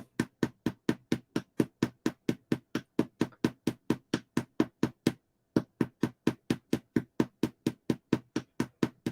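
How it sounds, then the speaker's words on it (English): A small hammer taps steadily on the body near the sacrum during a healing session, about thirty crisp, evenly spaced knocks with one short pause midway, close and alone. "there's a little hammer Momashari has"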